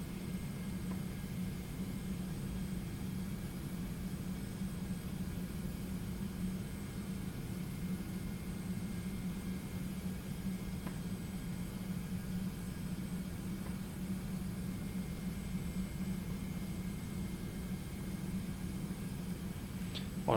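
Steady jet engine roar from a 717 airliner at climb thrust in a flight simulator, a constant broadband drone with a low hum, unchanging throughout.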